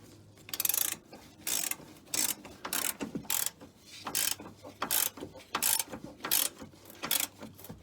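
A socket wrench ratchets repeatedly while tightening the handbrake on a Porsche 911, producing a steady series of close, crisp clicking bursts in an even back-and-forth rhythm with no talking.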